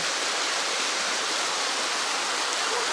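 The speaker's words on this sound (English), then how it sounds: "I'm now at the top of the waterfall where the river runs here and then falls." Kravica waterfall seen from the top, where the river runs and then drops, giving a steady, dense roar of falling water with no breaks, loud and close, no voices.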